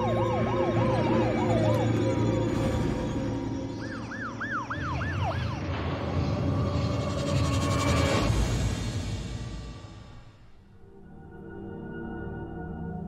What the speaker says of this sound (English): Yeah, Brad, we gotta call an ambulance.